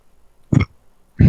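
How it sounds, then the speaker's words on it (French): Two short, throaty bursts, the second louder and longer, separated by a brief quiet gap, like close-up burping with no talking. "Je t'ai entendu roter."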